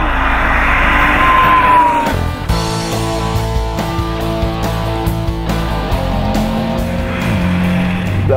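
A Porsche Cayman S with a flat-four engine on the move, first a loud rising rev, then a steady throbbing drone that continues close and prominent with no one talking.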